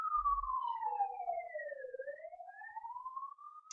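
An ambulance siren wails as it passes at a distance, its pitch sliding down and then back up in one long sweep, faint and isolated with no talk.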